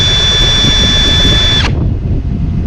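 The oil pump of a 75-year-old outboard motor runs at low speed, giving a loud, steady high-pitched whine with a mechanical drone underneath. Partway through, the whine cuts off and a lower rumble continues.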